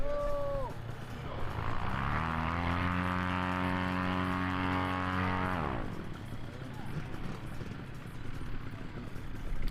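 Paramotor engine and propeller during a slalom competition, a droning motor whose pitch rises and then falls away as it passes, heard under an announcer's voice.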